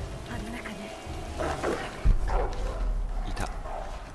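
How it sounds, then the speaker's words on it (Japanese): In the Tomb Raider video game, a dog barks several times in quick bursts over a low, rumbling backdrop, the sharp yaps spaced across a few seconds. "すごい音したね、今。ワンワンワンワン言ってた"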